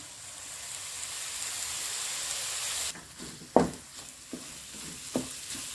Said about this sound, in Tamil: இப்போ இதில் தக்காளி போட்டுடலாங்க. 2 தக்காளி தான் எடுத்துருக்கேன். இதுக்கு நல்லா வதங்கட்டும்.